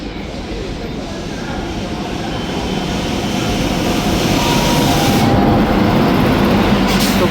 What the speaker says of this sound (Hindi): ये तो लोकल ट्रेन है।